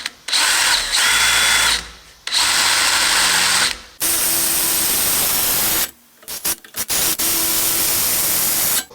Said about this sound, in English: When I'm drilling through this to make the hole bigger